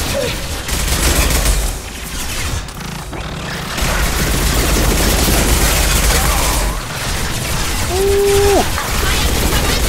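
Heavy sustained gunfire in the video game Mass Effect 2, loud continuous bursts and booms filling the whole stretch, with a brief electronic tone near the end.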